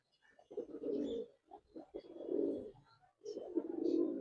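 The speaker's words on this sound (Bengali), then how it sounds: "যারা খাকি কবুতর পছন্দ করেন দেখতে পারেন" Khaki pigeons coo close by in three drawn-out, throaty phrases separated by short pauses, with a few soft clicks between them.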